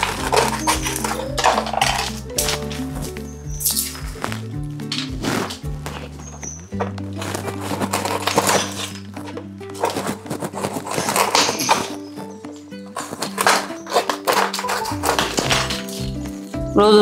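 Dried wakti fish is chopped with a knife. Repeated close, sharp cutting knocks and scrapes come in uneven bursts, with clinks of utensils between them.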